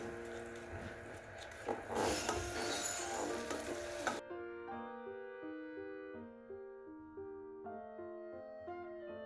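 Kashmiri chili powder sautéing in hot butter gives a loud bright sizzle with stirring scrapes for about four seconds, then cuts off abruptly into quiet music.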